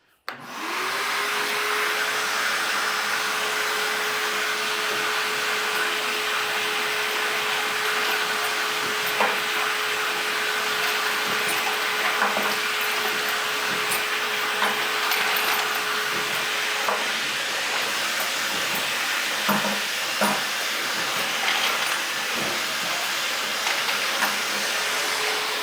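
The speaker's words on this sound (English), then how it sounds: "We're gonna turn on the vacuum, turn on the trimmer, and then hit start" A Dillon DA3000 press processing .308 brass runs with its vacuum and trimmer going: a loud, steady whooshing motor drone with a sustained hum, plus faint clicks and clatter of the press cycling, with no talk.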